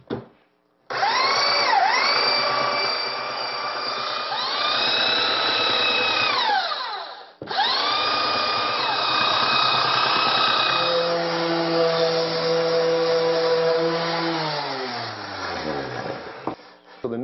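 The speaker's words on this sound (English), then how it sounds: "we'll do that with a belt sander with about an 80 grit" A belt sander with an 80-grit belt sanding wood whines steadily and loudly, stopping briefly midway, then running again before winding down with a falling pitch.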